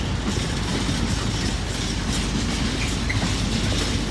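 A train arriving at a station rumbles steadily along the rails, a constant loud roar of wheels and carriages with faint rhythmic clatter and no voices.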